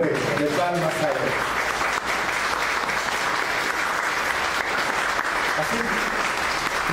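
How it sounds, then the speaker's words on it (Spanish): A church congregation claps loudly in praise to God, a dense, continuous wash of applause mixed with voices and some music-like tones at the start and near the end. "Denle una ofrenda fuerte de palmas a Él"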